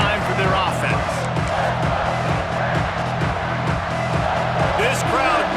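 Stadium crowd noise in an American football video game, a steady roaring murmur with occasional rising cheers, heard under continuous commentary from a play-by-play voice.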